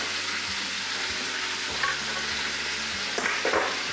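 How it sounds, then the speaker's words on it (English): Onions fry in a pan with a steady, close sizzle, broken now and then by soft scraping as they are stirred so the bottom layer doesn't burn. "making sure to mix this every once in a while so the onions on the bottom don't burn"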